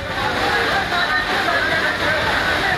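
Fast floodwater torrent pouring through a narrow street in Todaraisingh, Tonk, Rajasthan after heavy rain; a continuous loud rushing and sloshing roar with splashing, steady from start to finish.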